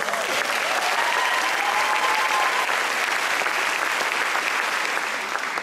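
Sustained applause from a graduation audience at a keynote, steady and full throughout, loud and close with a dense crowd texture and no pauses.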